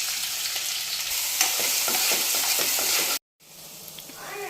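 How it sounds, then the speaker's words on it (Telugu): Cumin, green chilies and onion frying in hot oil for an egg pulusu curry, a steady close sizzle with a few stirring scrapes, briefly cutting out before the frying hiss resumes more softly. "ఆనియన్ వేడైంది, కొంచెం జీలకర్ర వేస్తున్నా, ఒక 2-3 పచ్చిమిరపకాయలు కానీ ఆనియన్ వేస్తున్నా"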